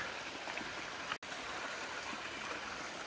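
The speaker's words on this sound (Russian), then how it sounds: "И вот он, сам водопад." Water rushes steadily in a small low-flow waterfall in the South Carolina mountains, a constant close splashing hiss with a momentary cut near the middle.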